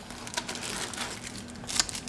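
A plastic bag holding landing gears for a 1:200 scale Boeing 747-8 model is handled, giving soft, close crinkling and rustling with a few sharper crackles, no talk.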